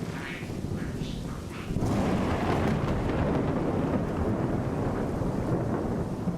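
Minecraft thunder from the Immersive Thunder and Dynamic Surroundings mods: a loud, sustained rumbling roll that swells after a quieter opening and keeps booming over steady rain-like noise.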